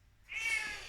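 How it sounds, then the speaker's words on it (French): A house cat lets out a single short, clear meow close by, rising out of near silence and then trailing off. "c'est mon chat qui fait la fête"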